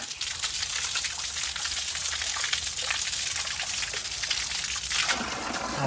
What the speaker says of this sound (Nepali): यहाँ यस्तो पानी आइरहेको